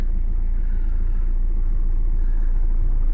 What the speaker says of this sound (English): Gotta have the clutch in to fire it up, and of course let the glow plugs do their thing.